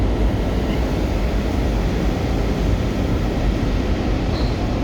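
Washington Metro Silver Line train passing through the new Dulles Airport station, a continuous close rumbling rush of wheels and motors, steady and fairly loud from start to end, with no speech.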